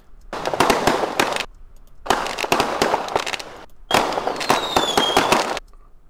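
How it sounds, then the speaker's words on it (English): Three dense bursts of crackling firework explosions with rapid pops, separated by short pauses; a faint whistling streak rises in the last burst. "I kind of want to take that firework sound"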